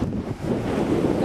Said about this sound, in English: we stopped at this beach, but it's really windy.